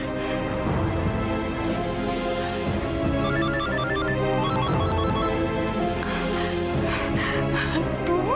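A phone call goes unanswered: a repeated electronic ringing tone pulses in short bursts over a bed of tonal background music, with no one picking up.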